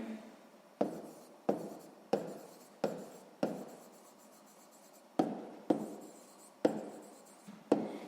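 Handwriting out a sixth-grade math word-problem solution, with about nine crisp, rhythmic scratching strokes that each fade quickly. The strokes are close and moderately loud, and no one speaks.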